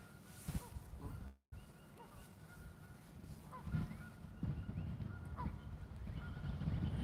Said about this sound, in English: We got some more geese coming in to say hi